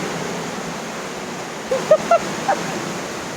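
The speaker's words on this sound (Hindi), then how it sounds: "तो हम लोग ऊपर से नीचे उतर कर आ गए हैं बिल्कुल वाटरफॉल के पास।" A waterfall in the hills of Mussoorie, Uttarakhand, gives a steady broadband rush of falling water, and a few faint, brief voices rise over it toward the end.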